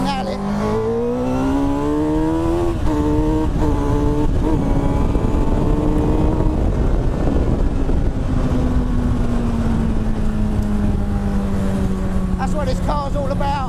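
An Indy R car fitted with a Honda CBR1000RR engine accelerates hard on a B-road, its engine note climbing steeply through the revs in repeated rising sweeps, loud and close throughout with a brief gear change.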